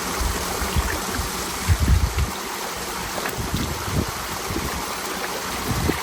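Muddy boots are rinsed in a river: steady running water with scattered low splashes and sloshes, plus wind buffeting the microphone, and no voices.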